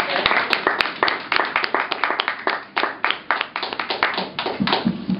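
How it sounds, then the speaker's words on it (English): A small audience claps at a storytelling event, the sound close and fairly sparse so that individual hand claps come through as distinct uneven slaps, rising and falling in bursts for about five seconds. "Please give him a round of applause."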